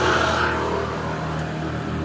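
Engine of a 2002 Honda Dream motorcycle running through an aftermarket stainless exhaust, a steady close idle-to-rev drone that eases slightly after a brief rise, with no talking.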